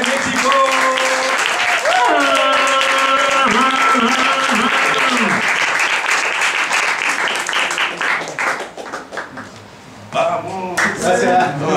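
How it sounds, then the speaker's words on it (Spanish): Loud applause and cheering greet a beatboxer from Mexico at a live show, with sustained tonal vocal sounds over the clapping early on and the noise thinning out toward the end. "Gran aplauso para Focus Beatboxer de México."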